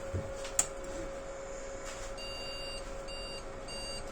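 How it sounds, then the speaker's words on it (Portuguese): An Asus AMD X570 motherboard beeps for missing memory: short electronic beeps in a repeating pattern, thin and high-pitched over a steady low hum, fairly quiet with no talking. "Olha lá, tá bipando sem memória"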